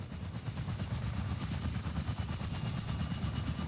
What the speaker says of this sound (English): It's interesting to be in this helicopter too.